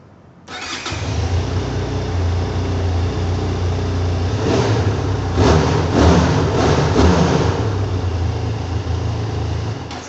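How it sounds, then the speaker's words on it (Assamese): A Benelli TRK motorcycle engine, from the TRK 251/502 family, fires up and runs steadily nearby, its exhaust note holding a low rumble with a brief rise in revs midway. "তাৰপিছত আমি আহোঁ এইখনৰ এক্সজষ্ট নট চ' মই নিজে মোৰ ওচৰতে যিহেতু আছে মই শুনাই দি আছোঁ"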